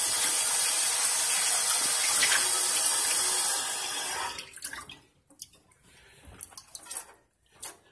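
Tap water runs hard into a sink while a pasta strainer is rinsed out. The rush is loud and steady for about four seconds, then stops, leaving drips and light clinks of metal and dishes.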